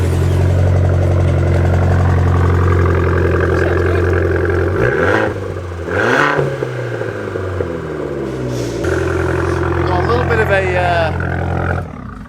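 Abarth car engine idling and revving nearby, a loud steady drone with sharp throttle blips and rising, falling pitch sweeps, voices talking over it.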